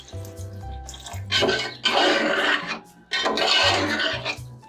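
Quarter glass of water poured into a pot of egg biryani masala with lemon juice, two close splashing bursts of pouring and sloshing, loud and without talk.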